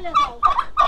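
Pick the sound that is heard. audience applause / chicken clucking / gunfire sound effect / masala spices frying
chicken clucking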